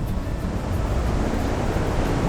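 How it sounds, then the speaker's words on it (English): Moderate ocean surf washes steadily onto a gradually sloping sandy beach at Vung Tau, Vietnam, a continuous near roar of breaking waves mixed with light wind noise and no voices. "The waves are moderate."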